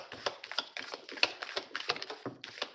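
Tarot cards shuffled by hand on a table, a rapid run of crisp riffling taps and flutters repeating in short bursts, close and fairly loud with no speech.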